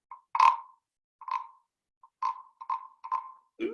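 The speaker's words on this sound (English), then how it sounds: "makes kind of a froggy noise." A small frog figurine from Hawaii lets out a series of short croaking chirps, six or seven brief, spaced calls that are fairly quiet and close, with no talking.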